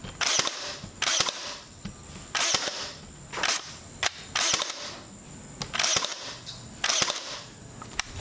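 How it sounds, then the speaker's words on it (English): A Ryobi cordless nailer firing nails with a trigger pull, seven sharp loud mechanical bangs at roughly regular intervals, each with a short whirring tail, no speech. "You actually just put it down and pull the trigger."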